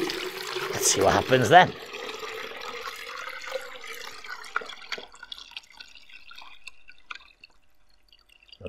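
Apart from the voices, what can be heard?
water poured from a 5-litre jug into a 3-litre jug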